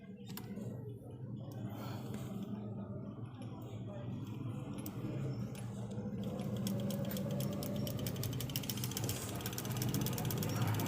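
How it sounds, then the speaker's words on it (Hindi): A sewing machine stitches a piece of cotton fabric, giving a quiet mechanical whir that builds into a fast, steady run of ticking clicks, with a voice faint in the background. "इस पर मैं जो है ना सिलाई लगा के चेक करता हूँ।"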